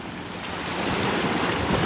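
Steady surf washing onto a seashore, with wind rushing across the microphone, a broad continuous roar that holds level and grows slightly louder, with no voices.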